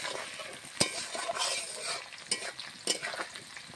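Onions frying in a pan and being stirred at home, close soft sizzling with scraping strokes of a spoon and a few sharp clinks against the pan.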